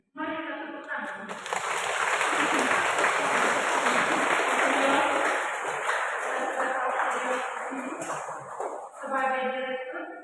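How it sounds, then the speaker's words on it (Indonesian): A church congregation at a parish Eucharist celebration breaks into sustained clapping for a visiting Bible team, filling most of the stretch, with tonal voices or music briefly before and after. "Mari kita tepuk tangan."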